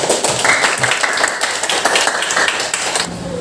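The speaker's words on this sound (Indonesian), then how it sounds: "tepuk tangan semuanya" Students in a classroom clap their hands together, a dense patter of many palms continuing steadily for about three seconds before stopping abruptly.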